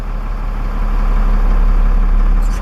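A truck tractor's engine runs loud and close as it tugs against its set parking brake during a pretrip inspection, a steady low rumble that swells slightly mid-way before easing off.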